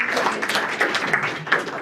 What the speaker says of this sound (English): please give a round of applause for both Matt and Oren.